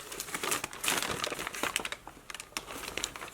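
Tissue paper crinkles and rustles inside a shoe box, a run of crisp irregular crackles close by, quiet and unaccompanied by speech.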